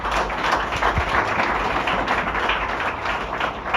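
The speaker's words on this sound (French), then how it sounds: "Montrez, bon Dieu, qu'on est content matin par un applaudissement." Audience applause at a church conference, a dense, loud wash of clapping from a large congregation sustained evenly across the whole stretch.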